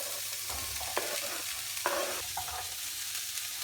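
Chopped carrots and onion hitting a pan of browned meat give a steady frying sizzle, with a few sharp clinks and scrapes of a spoon stirring throughout.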